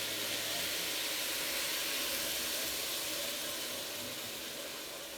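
Continuous loud hiss and sizzle as water hits a hot pan while cooking a sweet potato, red lentil and spinach curry, a broad, even rush that fades slightly toward the end.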